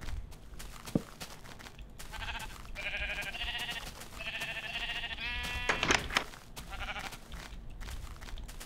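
Sheep in Minecraft bleat in several clear, wavering calls over about five seconds, close and moderately loud, with a soft background bed and a brief thump early on; no one speaks.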